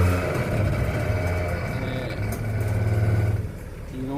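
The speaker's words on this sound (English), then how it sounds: "So, time to get this car off these ramps." A BMW car's engine idles and revs lightly as it drives off ramps, a close, steady low hum that rises in a throaty swell near the end before dropping off.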